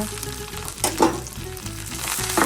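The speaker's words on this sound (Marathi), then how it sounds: "आणि आता कोथिंबीरचा थोडासा ओलसरपणा कमी करण्यासाठी मी हे तेलामध्ये थोड्या वेळाने परतू देणार." Coriander and dried curry leaves frying in hot oil, a loud steady sizzle with crackling bursts and a few stirring scrapes, close up and without talk.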